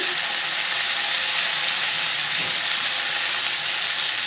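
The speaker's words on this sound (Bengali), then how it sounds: "এবার ওই ভেন্ডি আর আলু টমেটো সবজিগুলো দিয়ে দিচ্ছি" Okra, potato and tomato sizzle loudly in a hot pan, a steady dense crackling hiss that holds evenly throughout with no talking.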